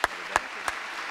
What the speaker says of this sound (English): Show our round of applause.